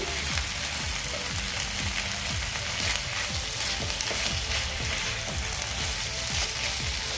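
Pea pod peel vegetable fries in a pan with a continuous close sizzle. A spoon stirs and scrapes through it in a quick repeated rhythm, with no talking.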